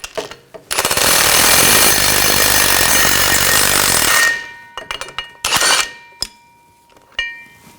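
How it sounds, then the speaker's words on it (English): Wrenching on the driveshaft coupler bolts of a 2000-2006 BMW X5 with an 18mm wrench and socket gives a loud, sustained metallic rattling burst of about three and a half seconds, followed by a few short clanks and clicks. "I'll take the other bolts off, same 18mm wrench,"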